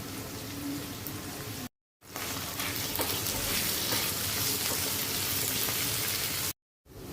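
Garlic and ginger paste frying in oil with onions for a beef curry, a close, continuous sizzle with light stirring scrapes, interrupted twice by short gaps.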